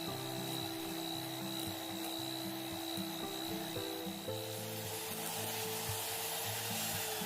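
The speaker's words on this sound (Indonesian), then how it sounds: "Kemudian dimixer lagi dengan kecepatan tinggi sampai mengembang kental, putih, dan berjejak." An electric mixer whirs steadily at high speed, beating egg and sugar into a thick, pale batter for cookies, a continuous motor hum with slight rhythmic variation from the beaters, close and alone with no talking.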